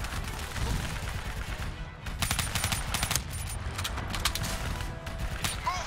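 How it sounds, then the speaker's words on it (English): Rapid gunfire from the video game Black Ops 3 crackles in dense bursts for nearly six seconds, loud and continuous with a brief lull near the two-second mark. "I'll just keep shooting, man."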